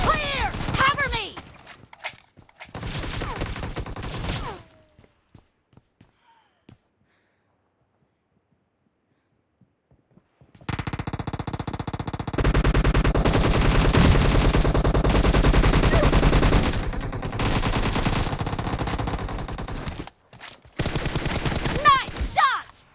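Rapid automatic gunfire in a PUBG team deathmatch, loud and close, with sustained bursts and short gaps between volleys, plus voices calling out around the shooting.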